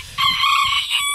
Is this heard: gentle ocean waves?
no